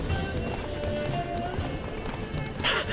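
Hoofbeats of Roach, the horse in The Witcher 3, galloping with a steady clip-clop over a busy game soundscape, faint speech nearby.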